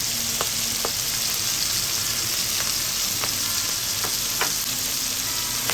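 Clams sizzle steadily in a hot pan with tomatoes, a dense continuous frying hiss broken by a few sharp clicks of stirring.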